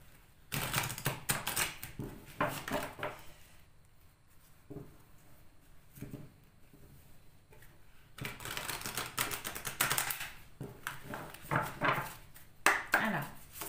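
Tarot cards shuffled by hand in bursts of dense, crisp riffling and patting, close and fairly loud, with a quieter stretch of softer handling in the middle before brisk shuffling resumes.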